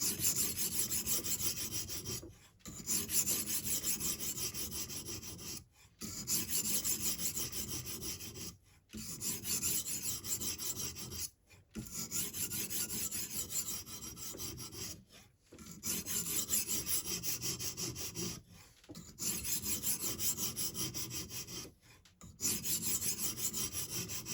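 Knife with a broken tip ground on a whetstone in a Hapstone guided sharpener, a steady close rasping scrape in long strokes broken by short regular pauses, with no talk.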